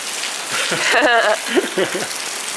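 Rain falls steadily in Fukuoka, Japan, as an even hiss of drops hitting surfaces, with people talking over it throughout.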